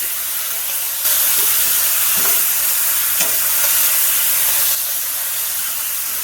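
Food cooking in a cast iron pan for creamy bucatini with turkey bacon, a loud, close, steady sizzle that swells for a few seconds mid-clip, with a couple of soft stirring scrapes and no voices.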